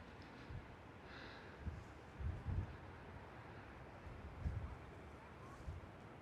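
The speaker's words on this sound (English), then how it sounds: "there's about a 25-mile-an-hour wind blowing." Steady wind noise from a roughly 25-mile-an-hour blow at Pensacola Beach, Florida, buffeting the microphone in low rumbling gusts that swell and ease over several seconds.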